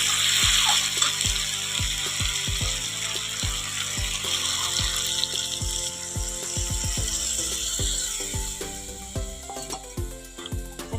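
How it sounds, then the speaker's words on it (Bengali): Water trickles and splashes into a pan of bottle gourd, eggplant and potato curry, pouring in a quiet, uneven stream with many small drips and clinks. "এবার একটু জল দিব।"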